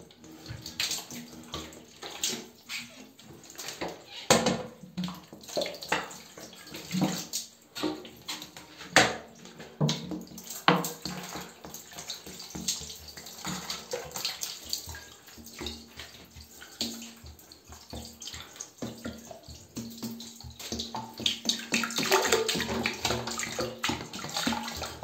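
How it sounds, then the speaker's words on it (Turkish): Running water rinses a toilet bowl during limescale and yellow-stain cleaning, a continuous splashing rush with uneven surges and small knocks, close and fairly loud for the whole stretch. "Şimdi tekrar bir daha durulayacağım."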